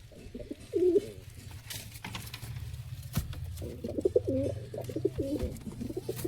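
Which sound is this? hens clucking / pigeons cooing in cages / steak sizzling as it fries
pigeons cooing in cages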